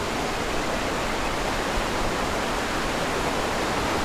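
River water flowing along the Sungai Bangek near Padang, a dense steady broadband rush filling the whole stretch, loud and close, with a few brief spoken words over it.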